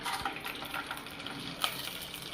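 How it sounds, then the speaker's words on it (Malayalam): Water is poured into a pot of chicken biryani rice after the spices go into hot oil. The trickle and splash are quiet, with a few brief gushes. "അപ്പോൾ നമുക്ക് ഇതിനോട്ട് വെള്ളം ഒഴിക്കാം"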